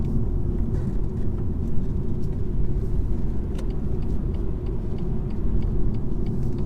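Engine of a 2018 BMW 118i with 136 hp pulling in second gear from inside the cabin, a steady low droning rumble with road noise that holds constant and loud throughout, no voices.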